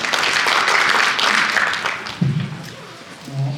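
Audience applause at a small-business support program briefing welcoming a government official to the podium, a dense clatter of clapping for about two seconds that fades, followed by brief low voices.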